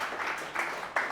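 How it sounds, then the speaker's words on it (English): A live audience gives a short round of applause for a volunteer named Kayla at a state training session; the clapping comes in a few moderately loud, broadband bursts lasting barely over a second. "Round of applause for Kayla, pretty please."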